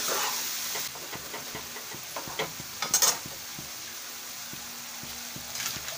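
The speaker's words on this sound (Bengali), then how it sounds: "মিশিয়ে ভালো করে নেড়ে দিতে হবে।" Food stirred and mixed in a pan while cooking a traditional Bengali dish, with a soft steady sizzle and hiss throughout and a few light scraping stirs and a brief louder clatter near the middle.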